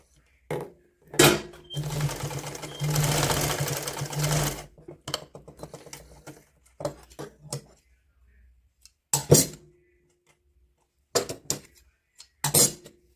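A sewing machine runs in one sustained whirring burst while stitching a woolen night suit for a small child, followed by scattered clicks and clinks of handling at the table.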